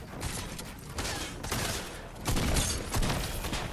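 Rapid bursts of video game gunfire crackle through the clip, dense and continuous with louder volleys toward the end, like a close-range firefight.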